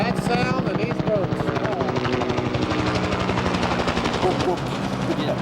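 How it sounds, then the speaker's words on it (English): The loud, steady thudding chop of a Huey helicopter's rotor blades fills the air close by, with voices faintly mixed underneath. "No sound like a Huey, is there?"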